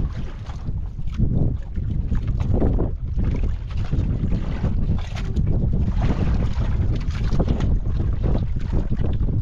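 Strong wind roars and buffets the microphone steadily throughout, a loud rumbling gusty noise with no voices.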